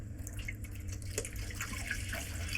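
Water poured from a can into the tank of a new air cooler, a steady splashing trickle close by with no talk over it.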